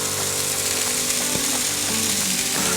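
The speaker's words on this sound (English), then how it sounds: "Sausage is coming along nicely. This Kobe beef is cooking great." Kobe beef smashburgers and sausage sizzle on a hot cooking surface, a dense, steady crackling fry heard up close with no talking.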